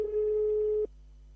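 A single steady telephone tone sounds during a call to a live radio station, holding loud and even for just under a second before cutting off abruptly.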